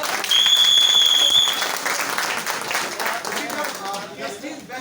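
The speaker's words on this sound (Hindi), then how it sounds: "जोरदार ताली बजाएं।" Loud audience applause at the opening of a Vestige best-deals shop in Motiganj, Siddharth Nagar, a thick burst of clapping that slowly thins, with a whistle-like tone early on and voices underneath.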